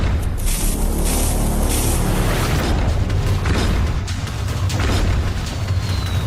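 A bomb explosion in a staged game scene lands as a loud, deep boom that rolls on into a sustained, heavy rumble, with no voices over it.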